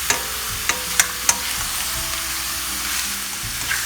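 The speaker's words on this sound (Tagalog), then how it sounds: "Pamamantikain po natin yan at make sure po na hindi didikit sa ating kawali" Pork adobo fries in hot oil in a wok, giving a dense, even crackling hiss close up, with a few sharp taps of a utensil early on and no talking.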